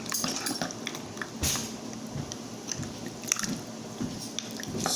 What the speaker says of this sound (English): Just like that, and then you stir it.